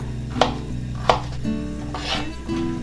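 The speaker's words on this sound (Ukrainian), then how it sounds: "Тепер беру морквинку чищену і теж її буду нарізати такими величенькими шматочками." A peeled carrot chopped into large pieces with a knife on a board for shurpa, with two sharp, distinct chops close by followed by quieter handling sounds.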